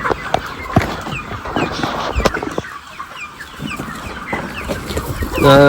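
Kaveri breed chickens clucking steadily in a busy farm coop of about 3000 birds, many close by with repeated short calls, ending in a louder burst of clucks.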